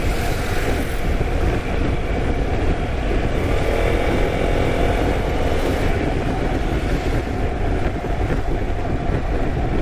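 A touring motorbike riding at speed, heard as a loud, constant roar of engine and wind with no breaks and no clear gear changes.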